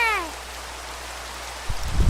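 Heavy rain falls in Pixelmon, a Minecraft mod, as a steady soft hiss after a brief descending game tone, with a low thump and rumble near the end.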